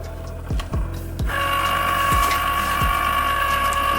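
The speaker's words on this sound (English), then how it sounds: "let's go ahead and turn our Cricut Explorer on" A Cricut Explorer Air 2 cutting machine powering up: a few dull knocks, then a steady mechanical whir with tonal hum that runs continuously, close and loud, punctuated by occasional soft thumps.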